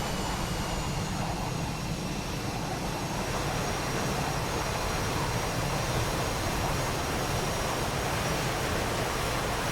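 Jet aircraft engines roar continuously in the DCS World flight game as two planes fly aerobatic manoeuvres at idle throttle, a loud, steady, broadband rush with no speech.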